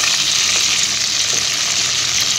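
Chicken pieces fry in a pan with a steady, close hiss of sizzling and no voices over it.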